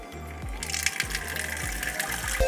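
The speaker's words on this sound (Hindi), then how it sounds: "पहले इस मटके को भरते हैं इस टोटी से" Water running from a tank tap into a clay pot, a steady gushing pour with a low rhythmic thumping pulse beneath it, close by and with no talking.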